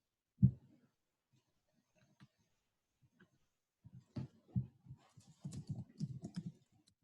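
Typing Python networking code on a computer keyboard: a single louder key press, sparse isolated taps, then a run of quick irregular keystrokes, close and quiet in a silent room.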